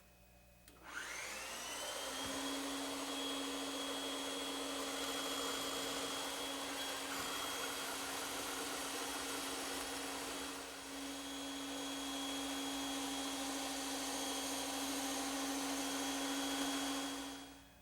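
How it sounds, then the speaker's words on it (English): A bandsaw spins up, then runs as a steady, loud whine over a hissing rush while it cuts a curved wooden side piece, with a brief dip partway through before the sound resumes. "and I'll cut it out on the bandsaw"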